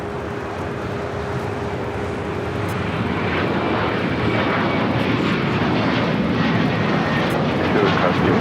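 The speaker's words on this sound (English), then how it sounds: "takeoff is American Airlines flight 993 heading to Charlotte in an A321" An American Airlines A321 airliner takes off at LAX. Its jet engine roar builds steadily from a distant rumble to a loud, broad whoosh, and voices can be heard over it.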